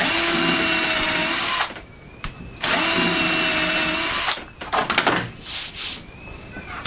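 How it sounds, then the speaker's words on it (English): Power drill boring holes through a clamped jig for built-in shelving, two long steady whining runs broken by a pause, then short choppy bursts and clatter as the bit is cleared. "You do need to keep clearing the drill bit"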